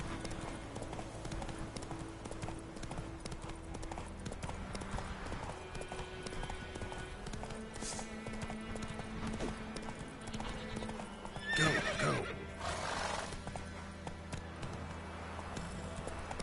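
A horse gallops with steady clip-clop hoofbeats in The Witcher 3, then gives a sharp neigh midway, with game music underneath and someone talking briefly.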